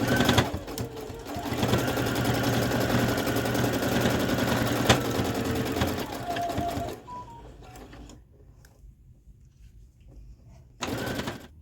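A sewing machine quilts fabric for Valentine confetti heart trim, its steady whirring stitch running loud and continuous for about seven seconds before stopping, followed by near silence and a brief burst of noise at the end.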